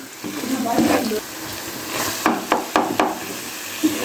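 Turnip pieces fry in ghee in a pan, a steady sizzle broken by a few sharp scrapes and knocks of a spoon stirring the pot, with a voice talking over it.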